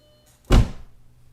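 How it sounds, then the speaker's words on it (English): A single heavy, solid thunk as an Audi B5 S4 car door swings shut, close by, with a deep low-end impact that fades quickly. "Listen to this door closing."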